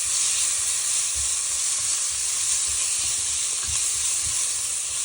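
Steady, dense sizzle of food sautéing in olive oil over a medium flame while a South Indian chicken curry is cooked, a continuous close hiss with faint stirring knocks.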